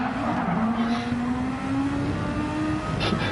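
Race car tyres squeal in a GT racing game on the Deep Forest track, a sustained rising whine over a loud engine drone, steady and close throughout.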